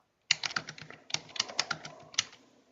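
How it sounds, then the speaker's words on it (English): Someone taps on a computer keyboard at a quiet, close distance, with irregular bursts of clicking keystrokes and short pauses between them. "Can't you hear him tapping away on his keyboard?"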